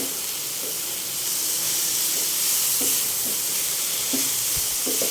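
Fresh backyard eggplant sautés in a pan with a steady sizzle and hiss. Faint stirring scrapes and clinks break through now and then.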